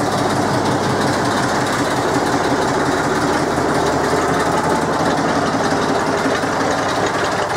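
Engine of a 1955 Ruston Bucyrus 10 RB excavator running steadily, a loud continuous rumbling mechanical drone with dense rapid chatter and no pauses.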